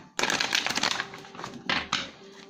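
Gypsy tarot cards are flipped and handled for a Thai horoscope reading, giving loud, close papery swishes and snaps in a few bursts.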